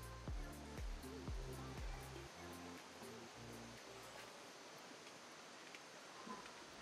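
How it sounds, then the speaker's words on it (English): Waterfall in Bali, a steady rushing roar of falling water heard faintly at a distance, with a few rhythmic low thumps at the start before the continuous wash of noise. "The waterfall."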